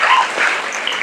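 A brief, loud burst of crowd clapping at a drama (natyachhata) competition prize-giving ceremony in Pune, a dense patter of many hands lasting about a second.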